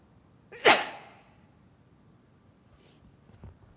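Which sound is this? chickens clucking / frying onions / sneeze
sneeze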